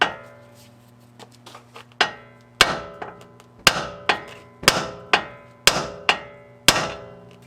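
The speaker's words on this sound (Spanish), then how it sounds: "Vamos a darle unos golpes." Hammer blows knocking a part loose on a 2015 Dodge Ram 1500 EcoDiesel, a few light taps and then a steady series of about eight sharp, ringing metallic strikes, close and loud, with no speech.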